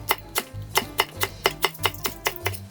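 Knife chopping Cheongyang chili peppers coarsely on a cutting board for a Korean pollock stew, about a dozen sharp, evenly spaced taps in a steady quick rhythm, close and clear with no talking.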